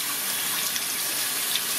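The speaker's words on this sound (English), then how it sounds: "give it a quick rinse" Warm water runs and splashes steadily as YQ-12 meat grinder parts are rinsed under it, a short, close, continuous gush with no voices.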